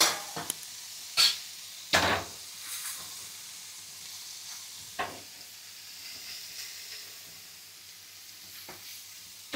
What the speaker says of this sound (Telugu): నేను ఇంకా దీని మీద కొద్దిగా నెయ్యిలో వేపుతున్నాను అన్నమాట పన్నీర్ ముక్కల్ని